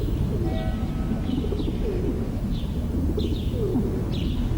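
Feral pigeons in a city square coo in soft, repeated low calls, several overlapping at a moderate distance, over a constant wash of urban traffic hum.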